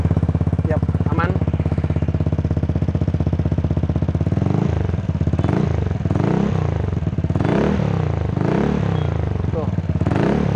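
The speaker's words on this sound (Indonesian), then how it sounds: "Kayak gitu bunyi Polininya." A Vespa Sprint scooter with a Malossi-equipped engine and Polini exhaust idles with a fast, buzzy two-stroke putter, then is revved in several loud rising blips, with some mechanical clatter close by.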